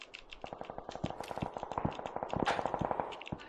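Rapid bursts of gunfire from the battle-royale game PUBG, fired while a vehicle is being driven, crack out in a dense, uneven series of sharp shots at moderate loudness with no talk over them.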